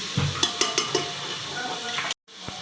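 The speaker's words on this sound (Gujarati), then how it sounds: "ડુંગળીને થોડી વાર 2-3 મિનિટ ફ્રાય થવા દેવાની" Onion frying in oil in a pan for ragda bhel: a steady soft sizzle with several sharp clacks from stirring against the pan early on, then a brief cut before the sizzling continues.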